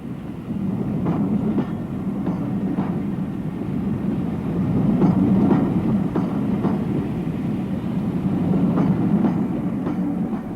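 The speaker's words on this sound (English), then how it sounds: "As the E1 departs, the narrow coaches can be seen." An E1 steam locomotive pulls away with narrow-bodied coaches on a heritage line, a steady low rumble of the train with rhythmic clickety-clack beats from the wheels rolling past at moderate distance.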